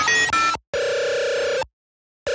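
A telephone call is dialed and rings on the line. Tones at a steady pitch sound in long bursts separated by silent gaps, giving the regular ring-and-pause rhythm of a phone line.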